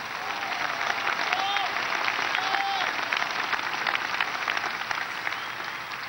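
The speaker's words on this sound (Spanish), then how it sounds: "un aplauso a la Virgen de Luján" Crowd applause for the Virgin of Luján at a papal general audience in Saint Peter's Square, a steady, dense wash of clapping from a large gathering, sustained evenly throughout with faint voices mixed in.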